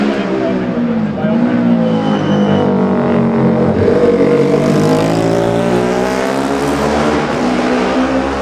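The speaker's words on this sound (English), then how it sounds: "Jeff Smith on his Honda number 38 is also plying a lonely furrow." A Honda racing motorcycle at the Classic TT junior race roars past, loud engine drone rising and falling with rumbling background noise, heard under a commentator's voice.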